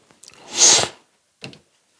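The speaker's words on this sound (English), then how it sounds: "Don't sneeze again." A single loud, close sneeze from a person sampling artisan perfumes, a quick intake then a sharp burst, followed a moment later by a brief softer sniff or breath.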